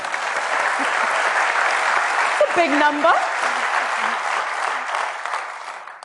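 Audience applause breaks out at an innovation summit, a steady wash of clapping from a crowd with a speaker's voice briefly heard over it.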